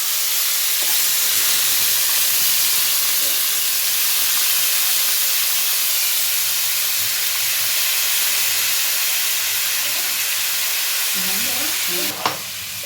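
Chopped onion, garlic and capsicum fry in hot oil in a kadai for homemade chilli chicken, giving a steady, close broadband sizzle with occasional stirring clinks and a sharp scrape near the end, no voices.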